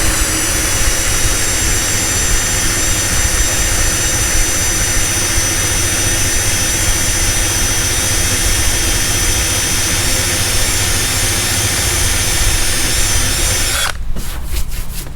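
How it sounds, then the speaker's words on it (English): Eraser wheel on a power tool stripping pinstripes off the body of a Box Chevy Caprice LS Brougham, a steady loud high whine that continues unbroken for about fourteen seconds before abruptly cutting off. "I'm gonna take this racer wheel and remove the pinstripes"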